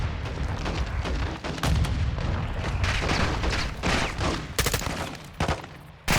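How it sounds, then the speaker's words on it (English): Grenades detonate in Modern Warfare 2, several loud booms and bursts overlapping with sustained gunfire in a dense, chaotic battle mix. "That's a grenade. That's another grenade."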